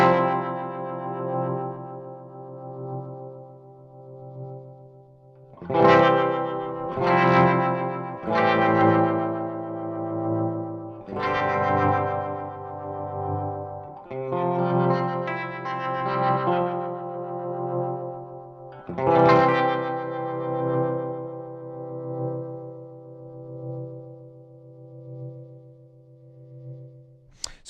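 Chasebliss Audio Gravitas analog tremolo pedal plays a saved preset with ramping parameters, giving sustained, heavily effected guitar chords that swell and pulse in waves, with distortion and echo trails fading between strums.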